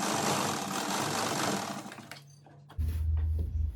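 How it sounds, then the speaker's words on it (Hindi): A sewing machine runs a long basting stitch on pant fabric up close, whirring in a dense continuous burst for about two and a half seconds before stopping, followed by a brief low hum. "हम यहाँ पे कच्चा सिलाई लगा लेते हैं ताकि इलास्टिक वगैरह डालें तो दिक्कत ना आए"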